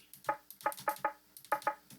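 Quiet, sharp clicky rim hits tap out a steady, fast pattern with a few gaps, like a woodpecker knocking.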